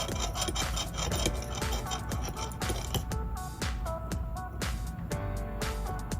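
An orange stick scrapes and taps vigorously against a small container while stirring acetone in a nail-care mix, producing dense, rapid, close rubbing and clicking strokes.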